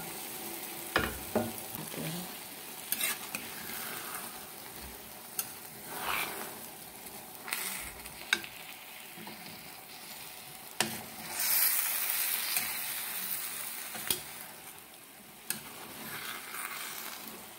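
Bitter gourd and egg frying in a pan and stirred: a soft, continuous sizzle with intermittent scrapes and knocks of the spatula, fairly close but quiet.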